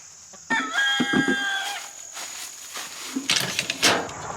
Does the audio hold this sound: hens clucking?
yes